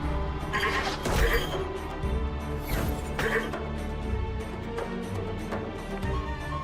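Goat bleats from a creature in an online multiplayer video game, a few bleating calls rising over a busy, loud game soundtrack and effects, with faint voices in the background.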